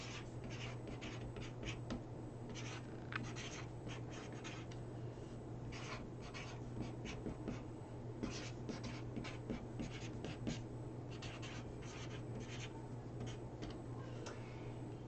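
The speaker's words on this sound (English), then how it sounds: "all I'm going to do is take my pen and just write on here" Pen writing on a square frame for a deco mesh Christmas craft, a close, quiet run of scratchy strokes and small ticks in an irregular rhythm over a low steady hum, with no talk.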